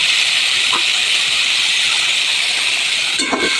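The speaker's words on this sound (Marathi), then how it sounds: "तर मी कंटोली टाकून घेते." Sliced spiny gourd (kantoli) dropped into a hot pan with turmeric and salt, a loud continuous hiss of frying with a couple of brief utensil clatters.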